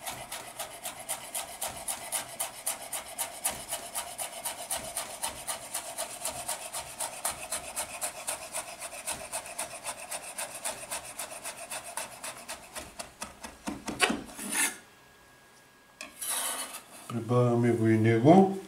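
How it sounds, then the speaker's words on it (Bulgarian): Fast, steady chopping of a knife against a board as dill is minced finely, close up; the chopping stops near the end, followed by some clattering. "Нарязваме и копъра"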